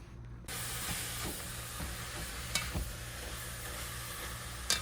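Chile verde heating in a single pot on the stove, giving a steady close hiss and faint sizzle with occasional soft stirring scrapes and small clinks.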